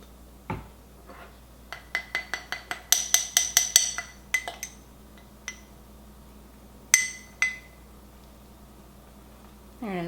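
A spoon works sticky cookie butter down into a glass for a latte, producing a run of sharp, ringing clinks and taps against the glass, clustered then scattered, close and fairly loud.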